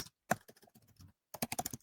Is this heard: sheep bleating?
no